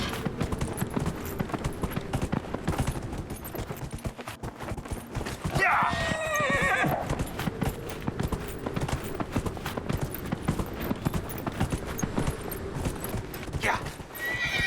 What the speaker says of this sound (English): we're going on foot, which is fine because we have a horse. Let's go, horse.